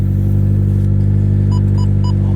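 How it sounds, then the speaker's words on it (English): Idling manual car engine just after starting, a loud steady exhaust rumble with strong low drone throughout, plus a few faint short electronic beeps near the end. "The exhaust should die down here a little bit. It's pretty loud"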